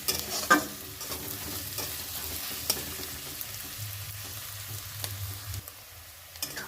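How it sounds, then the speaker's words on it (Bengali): Two medium onions, finely chopped, fry in oil until reddish for a fish chorchori. A close, continuous sizzle is broken by scraping stirs and occasional utensil knocks, with no talking. "দুটো পেঁয়াজ ভালো করে কুচিয়ে নিয়ে লাল করে আমি ভেজে নেবো"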